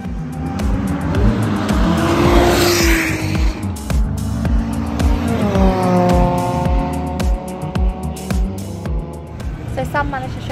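Ginetta G40 Junior race car on road tyres at Donington Park, its engine loud and close as it revs up and down through gear changes, with tyre squeal and a voice speaking over it.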